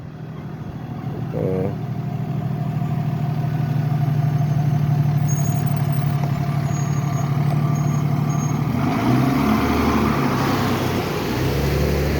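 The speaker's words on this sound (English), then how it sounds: "Another fire truck coming up now." A fire truck from the Boston fire department pulls up at a small brush fire on a street, its big diesel engine rumbling loud and close, with a brief air-brake hiss early on and a shift in engine note near the end.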